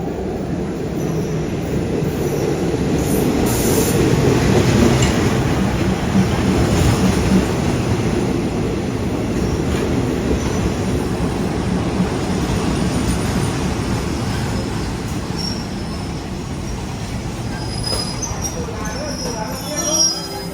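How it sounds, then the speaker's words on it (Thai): Local train 428 arriving at Buriram railway station in Thailand, a loud, continuous rumble of wheels and carriages that stays close and steady for about twenty seconds, with faint high squeals. "นั่นไงครับโผล่มาแล้วครับรถท้องถิ่น 428"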